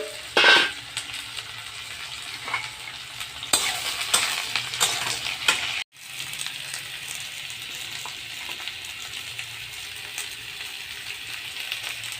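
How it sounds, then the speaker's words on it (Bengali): Bottle gourd pieces frying in a wok over a gas flame give a steady broadband sizzle, with stirring scrapes near the start and middle and a brief break partway through. "লাউগুলোকে ভালো করে ভেজে নেব।"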